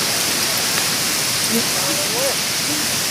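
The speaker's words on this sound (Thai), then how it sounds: "วันนี้ฝนตกแล้ว" Rain falling at a forest waterfall, a dense steady hiss of drops blending with rushing water, with a few faint birdlike chirps and no clear voices.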